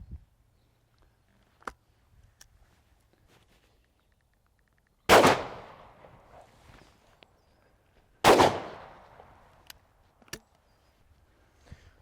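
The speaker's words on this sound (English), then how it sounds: "fire a couple of Ely 36 gram number 3 steel shot at the pattern plate" Two loud shotgun blasts from a side-by-side shotgun loaded with Ely 36 gram number 3 steel shot, fired at a pattern plate outdoors, about three seconds apart, each sharp crack trailing off into a short echo, with small clicks and handling noises between.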